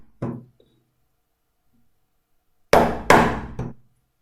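A mallet drives a razor-sharp chisel to cut out wood for a levitating wall clock. One sharp knock comes first, then after a pause three quick, loud strikes close together, with no talking.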